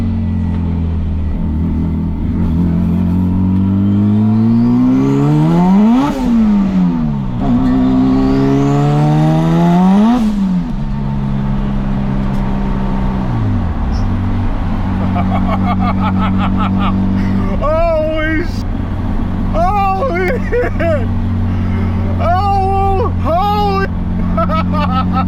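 An Acura engine running on E85 fires up on a dyno and revs hard, with loud harmonic sweeps rising and falling twice before settling into a steady high idle, then sharp blips near the end as people talk over it.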